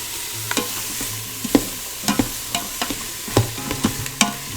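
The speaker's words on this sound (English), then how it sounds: "So you're going to let this saute for about 5 minutes while these things are softening" Chopped celery and carrots with onions sauté in an Instant Pot, giving a soft continuous sizzle broken by repeated close scraping clicks from a stirring utensil at an uneven rhythm, with no talking.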